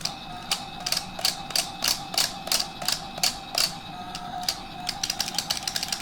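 A Kamen Rider Zi-O DX Beyondriver toy belt makes a rapid, regular run of sharp mechanical clicks and ticks, close up and crisp, steady for several seconds over quiet room noise with no talking.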